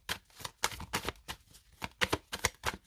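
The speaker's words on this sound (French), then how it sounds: "On va remettre une carte sur le valet de coupe." Tarot cards laid on a table during a reading, a string of about a dozen crisp, close card slaps and swishes in an uneven rhythm, with no voices.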